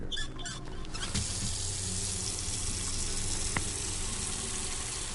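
Water runs steadily from a tap into a container in an autopsy simulator video game, a continuous gushing hiss with a few faint clinks near the start.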